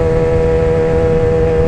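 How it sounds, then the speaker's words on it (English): A loud, steady emergency siren sounds outdoors, a sustained tone that holds level without rising or falling for the whole short stretch. "I'm seeing sirens."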